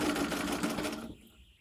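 A treadle sewing machine runs briefly with a close, rapid clattering stitch for about a second, then winds down into quiet.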